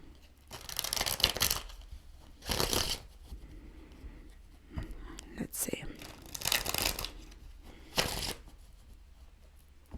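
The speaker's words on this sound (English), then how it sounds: "let me give it 2 more shuffles" Several bursts of tarot card shuffling, brisk riffles separated by pauses, close and crisp, with a brief quiet spoken remark between them.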